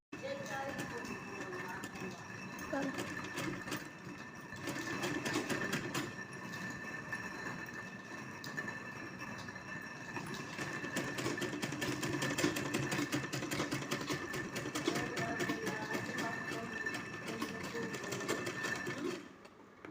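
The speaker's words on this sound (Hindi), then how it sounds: "इसके मिडिल पॉइंट को इसके मिडिल पॉइंट के ऊपर रखते हुए इसको हम स्टिच कर लेंगे" A sewing machine runs steadily near the microphone while stitching the trim onto a small Laddu Gopal dress, its rapid mechanical whir continuous for the whole stretch with a brief pause near the start.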